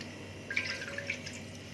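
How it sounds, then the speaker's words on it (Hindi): Water from a measuring cup poured into a pan for sweet vermicelli, a brief soft trickle with a few drips and splashes over a steady low background hum. "इसमें ये 2 कप पानी डालेंगे।"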